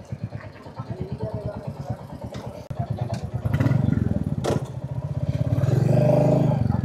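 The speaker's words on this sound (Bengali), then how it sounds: "তো এই হচ্ছে সব বাইক" Royal Enfield motorcycles, about sixty of them, idle and rumble at a club anniversary gathering, with a close engine thumping steadily, then rising louder as more bikes rev, while people talk over the noise.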